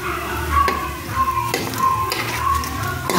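Cheese sticks wrapped in lumpia wrappers fry in hot oil, a steady close sizzle with a few light clicks and stirring scrapes against the pan, no voices.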